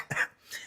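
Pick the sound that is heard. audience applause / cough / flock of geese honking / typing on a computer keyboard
cough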